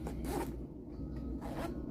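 A zipper on the front pocket of a sling bag is pulled closed in two quick, close, faint strokes against a low background hum.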